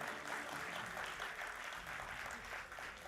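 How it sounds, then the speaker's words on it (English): Audience at a convocation ceremony applauds in a steady, even wash of clapping that holds for the whole stretch at moderate distance. "I think they deserve a big round of applause from all of you"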